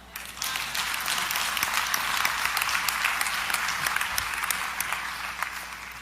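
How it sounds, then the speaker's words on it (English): An audience at a preacher's sermon breaks into steady, dense applause that swells and holds for several seconds, mid-distance, with little talk over it. "Clap."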